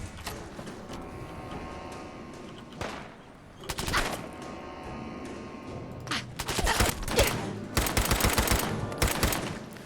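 Rapid automatic gunfire from the video game Fallout 4: scattered shots early on build into loud, closely spaced bursts in the second half, with sharp, rattling reports.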